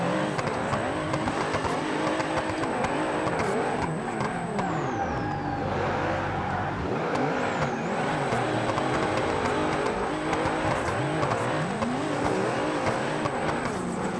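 Loud, constant engine roar from a street-drifting car in the video game BeamNG, with revving and tire squeal running steadily for the whole stretch.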